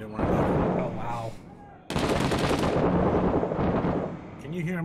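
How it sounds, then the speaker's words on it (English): Bursts of rapid video game gunfire in a GTA roleplay police patrol, loud and close, mixed with players talking over it, with a brief drop in the middle before the shooting resumes. "Can you hear how much gunfire is going on?"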